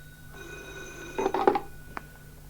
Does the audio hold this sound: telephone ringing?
yes